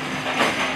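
A toy train rolling along in a children's play session, a brief steady rumbling whir with a slight swell in the middle, close and loud.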